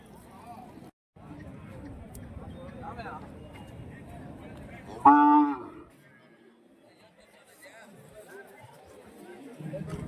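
At the Kundarapalli cattle market in Krishnagiri, where calves and bulls are sold, a single loud moo rises in the middle, set against steady crowd chatter and nearby talking.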